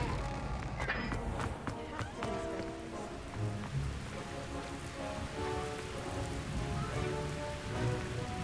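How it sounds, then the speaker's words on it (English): Steady rain patters on surfaces in a continuous, moderately quiet wash, with faint scattered sounds mixed into the downpour. "Ever stop raining?"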